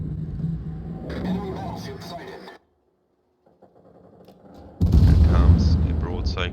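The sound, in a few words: naval broadside gunfire from a warship in World of Warships video game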